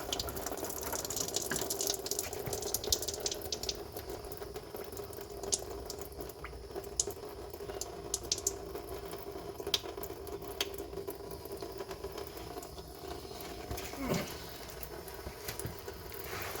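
Coolant pours and trickles steadily from an opened BMW Z3 radiator in a continuous faint splashing flow, with occasional small drips and gurgles, no voices.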